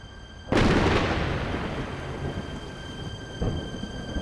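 Thunder from a thunderstorm cracks suddenly and loudly, then rolls and rumbles as it slowly fades, with a second, softer swell a few seconds later.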